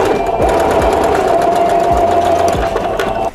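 A sewing machine stitches a canvas shoulder-bag strap, running steadily and loudly throughout with a continuous motor whir and a few heavier knocks of the needle mechanism.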